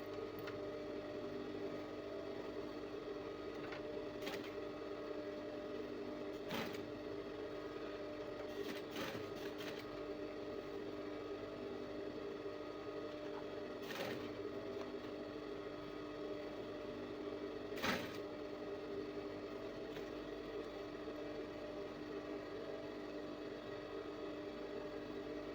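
A sewing machine stitches pinned fabric with a half-inch seam, making a quiet, steady motor whir with occasional light clicks throughout.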